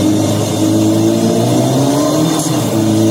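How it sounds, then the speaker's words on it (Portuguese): A simulated 600cc motorcycle engine roars from the speaker of an electric bike simulator, loud, close and continuous with a rising, revving pitch and no talk over it. "Moto reagindo, ronco absurdo."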